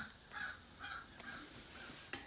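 Crow cawing outdoors, a series of about four harsh caws spaced evenly and fairly close, followed by a sharper sound near the end, with no talking.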